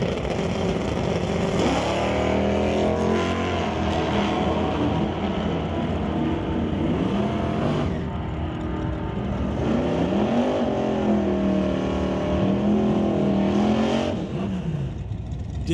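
Drag racing cars, a 1970 Chevelle and a Ford Mustang, roar continuously at high volume, the engine note rising and falling through several rev swells across the run with no pause.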